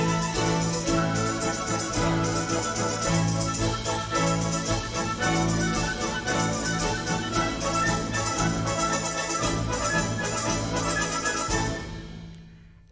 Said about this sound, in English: The entire orchestra sounds like this.